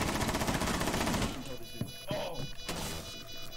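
A heavy stretch of gunfire in Rainbow Six Siege gives way to a few separate, sharp shots and impacts against quieter game ambience.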